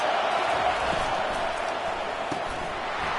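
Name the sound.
stadium crowd at a college football game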